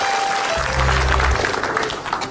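A studio audience at a comedy show breaks into applause, a broad wash of clapping that holds steady at close range, with a low hum briefly underneath.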